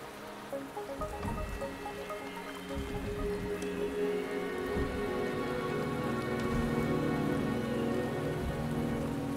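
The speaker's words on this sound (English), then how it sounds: "The rain is subsiding, and the sky will soon clear." Rain falling steadily in the video game Wuthering Waves, a constant patter on surfaces that grows slightly denser partway through, with no talk over it.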